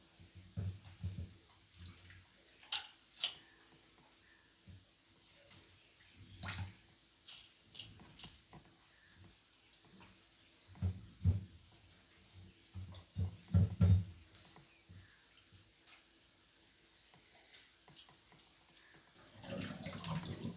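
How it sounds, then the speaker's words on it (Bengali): Dried shrimp are swished and rinsed in a bowl of fresh water, giving faint, intermittent sloshes and splashes with quiet pauses between. "ফ্রেশ জল দিয়ে ধুয়ে নেব।"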